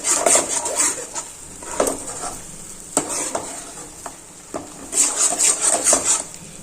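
Sweet-sour raw mango and tomato chutney with added sugar sizzles in a pan while being stirred, giving repeated close scraping strokes over a steady frying hiss, with bursts of quicker stirring.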